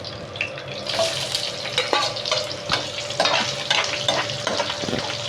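Chopped large onion fries in oil for a potato and garlic chili dish, a loud, continuous sizzle with repeated scraping stirs and clatter against the pan, close up and with no talking.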